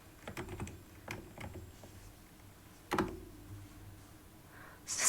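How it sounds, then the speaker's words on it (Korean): Keys on a computer keyboard clatter in short irregular bursts with pauses between them, sounding quiet and a little distant in a calm indoor room with no talking. "여러분 저 키보드 소리 근데 들리시나요?"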